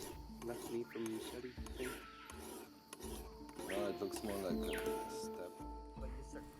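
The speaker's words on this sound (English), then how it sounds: "the file is only touching the blade during the cutting action, not during the reset" A hand file rasps against a blade being sharpened in the Amazon jungle, giving several steady rubbing strokes with brief pauses between them, close and fairly quiet.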